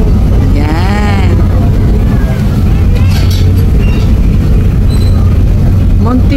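A Montenegro Lines ferry crossing the sea between Samar Island and Bicol gives a constant low engine rumble and drone, loud and steady throughout, with people talking over it.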